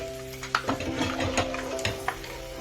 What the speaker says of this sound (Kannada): ಅದೇ ಕಡಲೆ ಬೀಜ ಒಂದು ಸ್ವಲ್ಪ ಫ್ರೈ ಆಗಬೇಕು